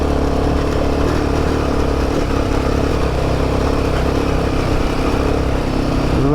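A Royal Enfield Himalayan 450 motorcycle labors up a steep, rough, loose hill, its engine droning loudly and steadily under load at close range with a constant rumbling growl.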